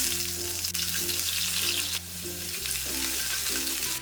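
Ginger and garlic go into hot oil and crackle in a bright, steady sizzle, with a few soft stirring scrapes under the continuous frying.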